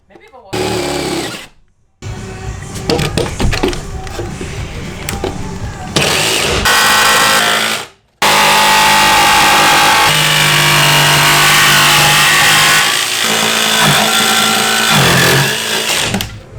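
A power saw fitted with a thick-metal blade cuts a hole through the steel body of a school bus during a skoolie conversion. It makes loud, sustained whining and grinding bursts with short pauses between cuts.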